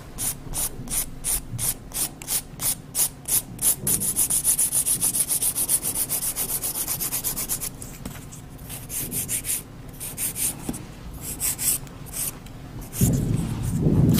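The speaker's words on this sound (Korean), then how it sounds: "세밀하게 파일링을 좀 해주시고요" Hand filing on an artificial nail tip reinforced with a silk wrap: brisk rhythmic back-and-forth scratching strokes, then a longer continuous rasping pass and slower, softer strokes, close up with no talking.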